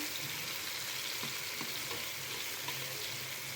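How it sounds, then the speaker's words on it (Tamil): Rock fish frying in oil over a low flame, a steady close sizzle and bubbling hiss throughout with faint stirring clicks. "லைட்டாக லோ ஃப்ளேம்லேயே வச்சுதாங்க அது வறுக்கணும்"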